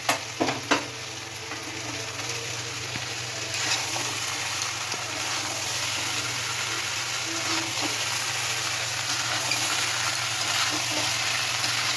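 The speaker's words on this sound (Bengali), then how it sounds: "কষানো আলু এবং মশলা দিয়ে কষানোটার মধ্যে ছোলাটা দিয়ে কিছুক্ষণ কষাতে হবে।" Boiled chickpeas being sautéed with potatoes and spices for chana masala, a steady broad sizzle and frying hiss with occasional stirring scrapes, fairly close and continuous throughout, with no talking.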